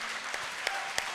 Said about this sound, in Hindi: एक बार पीयूष जी के लिए जोरदार तालियां, और सब लोग अपने खड़े हो जाइए तो बहुत बढ़िया स्टैंडिंग ओवेशन